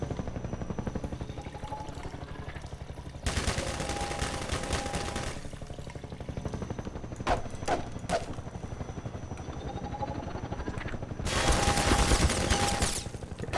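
Gunfire in Half-Life 2 aimed at the player in City 17, with two loud sustained bursts of rapid shots and a few sharp isolated cracks between them, over steady game ambience.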